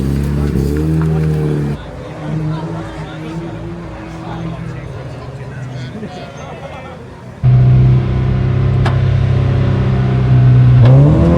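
Mazda MX-5 race cars launch at the start of a race at Croft Circuit, engines revving hard with rising and falling tones and gear changes, loud and close, while people talk over the noise.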